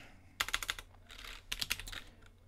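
Two quick bursts of typing on a computer keyboard, each a rapid cluster of crisp key clicks, close and fairly quiet in a still room, with no talk.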